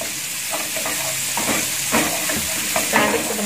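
Onions sizzle as they fry in a pan while being stirred, giving a constant crackling hiss broken by irregular scraping strokes of the spoon, close and moderately loud.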